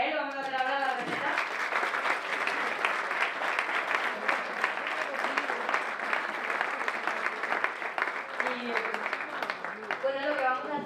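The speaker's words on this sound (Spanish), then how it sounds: "un aplauso para él" Audience applause at a chef's event for the Fiesta del Crespillo in Barbastro, steady and sustained for several seconds, with a voice speaking briefly at the start and end.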